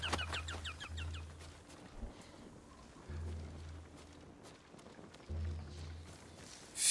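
In the video game Ghost of Tsushima, a hawk gives a quick series of high, piercing cries at the very start. Steady game ambience and low rumbling fill the rest of the stretch.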